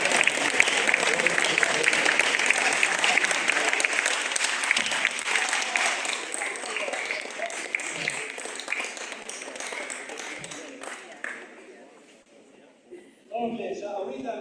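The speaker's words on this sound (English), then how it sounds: "let's have a standing ovation" Sustained applause from an awards-ceremony audience on its feet, steady dense clapping for about eleven seconds before fading away, then a brief final burst of claps.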